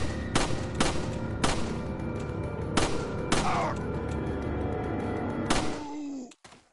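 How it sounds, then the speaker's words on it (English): Pistol shots in Resident Evil 4 (2005): about six loud, sharp reports spaced irregularly over several seconds above a low game ambience, alone without talk. "See if I can finish him off with my pistol."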